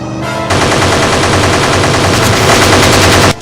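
Loud machine-gun fire aimed at an aircraft wing rattles in one sustained burst of roughly three seconds, close and dominant, with no voices over it.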